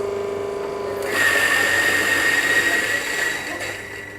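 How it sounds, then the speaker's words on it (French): A Turkish coffee mill grinds beans very fine, a steady mechanical whirring grind close up that rises in intensity after a second and holds, with a thin high whine running through it. "Sans ce moulin, on ne peut pas faire du Turkish coffee."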